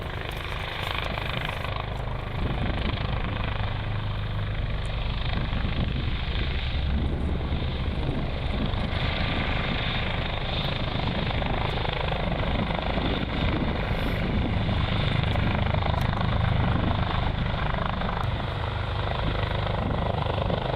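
A Sikorsky S-97 Raider, an 11,000-pound compound helicopter, flies nearby during a test flight at Redstone Arsenal in Huntsville, its loud, continuous rotor and engine roar holding steady throughout with no talk.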